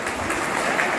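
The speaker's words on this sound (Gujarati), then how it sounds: "please big round of એપ્લોઝ four Dineshbhai" Audience applause at a Navratri Raas Garba event, steady dense clapping from a large crowd filling the whole moment at an even, loud level.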